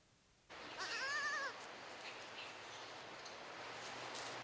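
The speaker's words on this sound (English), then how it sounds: "it's the season of kids for one local dairy goat farm" Goats bleat on a dairy goat farm outside Urbana during kidding season, one clear wavering bleat near the start followed by a steady background of fainter farm noise.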